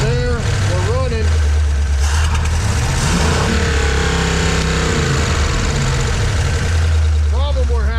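A 1937 Ford engine fitted with multiple carburetors runs loud and close, a steady low rumble that swells as it picks up. Voices speak faintly beneath it.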